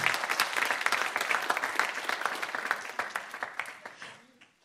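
Congregation clapping and applauding in church, a dense burst of many hands that holds steady and then tapers off near the end, with a little voice mixed in.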